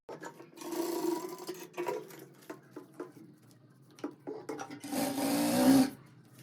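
A sewing machine stitches the belt of a ready-to-wear sari in two close, fairly loud whirring runs, separated by quieter pauses with light handling clicks.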